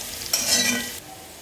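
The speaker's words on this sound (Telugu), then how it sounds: "ఆనియన్స్ అయితే ఫ్రై అయిపోయాయి" Onions fry in an iron kadai with a short, bright burst of sizzling and stirring that swells, holds for about half a second, then drops back to a quieter hiss.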